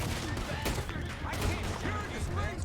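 Rapid gunfire crackles through a Red Dead Redemption 2 chase as the player drives while shooting, dense overlapping shots with whistling ricochet-like tones over a steady rumble of hooves and wheels, continuous and fairly loud throughout.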